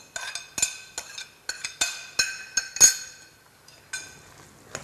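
Chopped spinach stirred into a pie filling in a bowl, with a spoon striking the sides in a quick series of bright, close clinks and taps that thin out and fade toward the end.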